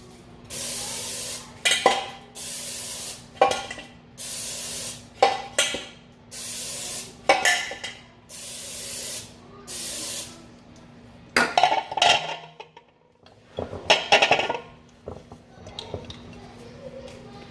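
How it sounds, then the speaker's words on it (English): Cooking spray hisses in about seven short, rhythmic bursts, followed by a few light metallic clinks of a pan being handled. "I'm gonna spray the pan with Pam so it doesn't stick."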